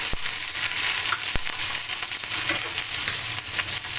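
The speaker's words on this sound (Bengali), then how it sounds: "কাঁচামরিচ তেলে দিলে একটু ছিটকবে" Green chillies and ginger sputter in hot oil with bay leaf and dried red chilli, a steady close sizzle punctuated by a couple of sharp spitting pops early on.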